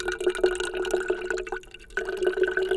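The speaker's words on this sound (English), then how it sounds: "As I'm pouring it, there's bubbles forming." Liquid pours steadily into a plastic container, foaming up with saponin bubbles from natural soap-making ingredients; a continuous close splashing pour with a brief pause partway through before it resumes.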